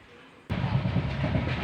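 Passenger train starting up loudly and running on rails after a quiet moment, a steady rumbling roar with a faint clatter of carriages close by.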